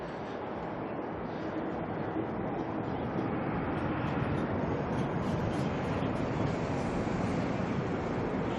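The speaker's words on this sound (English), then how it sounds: "now the ATR is going to make its way on out" An ATR turboprop taxis out at Auckland Airport, a faint, steady broadband engine roar that stays constant and distant throughout.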